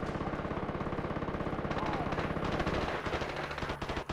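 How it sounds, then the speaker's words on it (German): Enemy gunfire in the shooter game Far Cry 3: rapid, sustained automatic bursts with dense rhythmic cracks, loud and close, the firing intensifying toward the end. "Also das sind die Knarren von den Gegnern, ist das."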